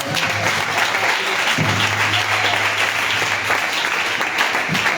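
A church congregation applauding loudly and continuously, dense close clapping filling the whole stretch with some voices cheering underneath.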